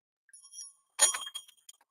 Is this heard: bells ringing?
yes